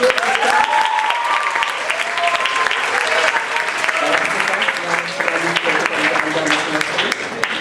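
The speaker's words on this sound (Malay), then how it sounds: "Sekarang saya berikan tepuk tangan guru." Steady, dense applause from an audience for teachers at the final round of a school pantun competition on stage, continuous and close with faint voices under it.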